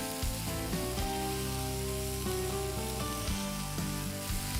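Fried potato chunks sizzle steadily in a pan as they are stirred, a close continuous frying hiss with light scraping movements and no talking.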